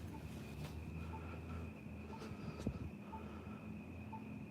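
Distant train rumbling past behind a street intersection where a car pulls up to turn, a low steady roar with faint wheel squeal and a brief thump, continuous and far off.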